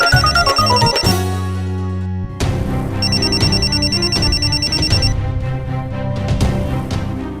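A telephone rings in a repeating electronic pattern against musical background sound, loud and close.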